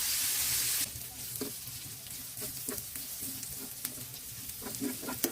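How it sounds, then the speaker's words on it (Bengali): Marinated chicken frying in soybean oil while being stirred, a steady close sizzle broken by rhythmic scraping and clicks of the spatula, opening with a brief louder hiss. "মাংসগুলো দিয়ে এবার আমি ভালোভাবে নেড়ে সিদ্ধ হওয়া পর্যন্ত ভেজে নিব।"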